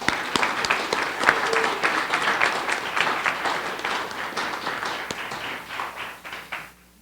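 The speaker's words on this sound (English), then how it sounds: "Let's give them a round of applause" Audience applause at a city council candidate election debate, as a room stands to honor veterans: dense, steady clapping from a sizable crowd that holds for several seconds, then thins out and stops.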